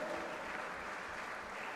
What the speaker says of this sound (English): please give a thunderous round of applause